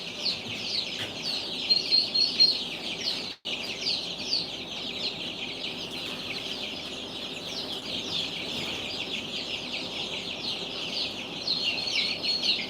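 Baby chicks chirping continuously in a dense, high-pitched chorus, a steady busy twittering that stays close and fairly loud throughout with no speech.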